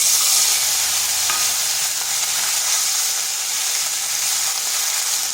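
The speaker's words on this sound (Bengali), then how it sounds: "একটু ভালো করে ভেজে নিচ্ছি যাতে আদার কাঁচা গন্ধটা চলে যায়" Ginger paste, green chilli, dried red chilli and turmeric frying in hot oil for a vegetarian bean dish, a loud, dense, continuous hiss heard close up with little variation and no voices.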